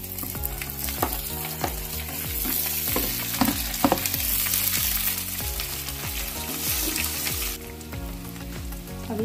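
Fried ginger and roasted garlic sizzle in a pan with cumin and asafoetida for homemade pickle, a constant loud crackling broken by repeated scraping stirs in a steady rhythm, with no talking.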